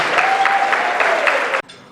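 A dense, steady round of audience applause rises loud and full, sustained for over a second before cutting off abruptly into a quieter tail.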